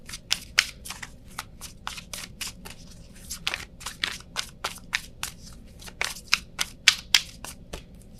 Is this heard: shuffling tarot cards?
yes